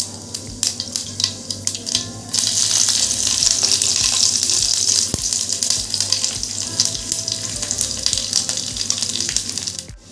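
Mustard seeds crackle and pop in hot oil in a pan for tempering dal, a dense close sizzle with sharp scattered pops that swells after a couple of seconds and holds steady until it stops abruptly.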